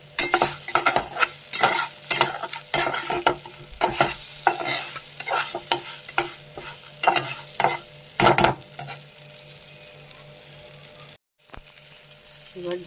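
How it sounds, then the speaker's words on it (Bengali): Mango pieces and lentils with tempering spices, turmeric and salt are stirred in a frying pan, giving repeated scraping and clattering strokes over a sizzle that settles into a quieter simmer toward the end. "এবার ডাল দিয়ে নাড়াচাড়া করছি"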